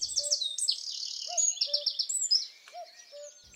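A track of birdsong from warblers, woodpeckers and blackbirds carries a dense run of bright chirps, trills and whistles, with lower repeated calls underneath, clear and unaccompanied by talk.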